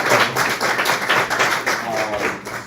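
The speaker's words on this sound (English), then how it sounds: "Let's give them a round of applause." A live theatre crowd at a Mystery Science Theater tribute show claps in a round of applause, a dense irregular patter that swells and dips, fairly loud and near, with some voices mixed in.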